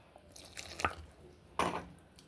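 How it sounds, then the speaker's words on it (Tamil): Water dribbles into ground murukku flour in a few short wet drips and squishy splashes, quiet and close, with two clearer bursts. "இதோட போட்டுட்டு கொஞ்சம் தண்ணி கொஞ்சம் ஊற்றி பிணையணும்."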